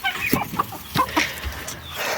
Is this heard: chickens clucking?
yes